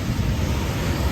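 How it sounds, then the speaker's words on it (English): Strong wind from a wind storm in Sullivan, Missouri roars as a steady, loud, low rush buffeting the microphone, with no voices over it. "Look at all that wind."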